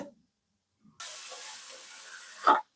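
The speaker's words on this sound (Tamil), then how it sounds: "எண்ணெய் காஞ்சிட்டு கொஞ்சமாக கடுகு கடுகு தாளிப்பு உளுந்து" Mustard seeds and urad dal tempering in hot oil in a kadai for coriander thokku, giving a steady close hiss and splutter for over a second and a half that swells into a brief louder burst just before it stops.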